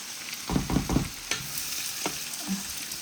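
Greens frying with garlic and onion, a soft sizzle punctuated by three quick scraping stirs and a few sharper clinks against the pan.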